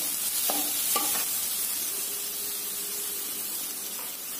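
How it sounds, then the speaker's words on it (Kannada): Ingredients fry gently in a pan over a low flame for a carrot stir-fry, a soft continuous sizzle with a few quick stirring scrapes near the start, close and moderately quiet. "ಸಣ್ಣದಾಗಿ ಉರಿ ಇಟ್ಕೊಂಡು ಫ್ರೈ ಮಾಡ್ತಾ ಇದ್ದೀನಿ"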